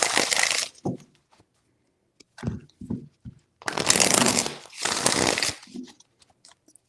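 Tarot cards are shuffled in bursts: a loud riffle, soft taps and shorter flicks, then two long, close, crisp shuffling runs separated by brief pauses, with no talk.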